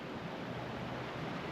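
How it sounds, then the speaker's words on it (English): Steady, close rushing of running water in Medicine Bow National Forest, Wyoming, a continuous broadband wash with no pauses. "and hearing the running water."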